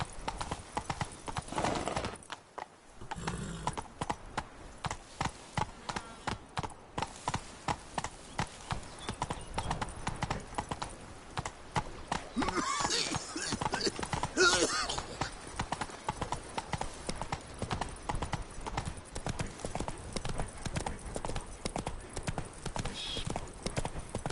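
Roach the horse galloping in The Witcher 3, rapid rhythmic hoofbeats pounding steadily and close throughout, with a brief whinny and voices talking over it at times.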